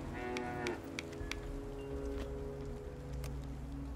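A cow moos in the video game Force of Nature 2: one long, low drawn-out bellow at moderate level, trailing off with faint ambient rustle and wind behind it.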